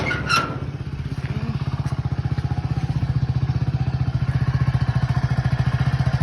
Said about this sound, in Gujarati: બાઇક ચાલુ કરી નાખ્યું છે મસ્ત